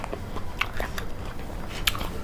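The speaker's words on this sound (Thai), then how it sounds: "อร่อย กรอบคัก พามากินผลไม้กรอบๆนะพี่น้องเนี่ย" Someone bites into crunchy dried jujube fruit coated in chocolate, the jumbo kind, giving a few sharp close crunches and crackles against a hissy background, with no talking.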